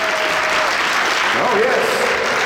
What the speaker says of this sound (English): a round of applause for the main man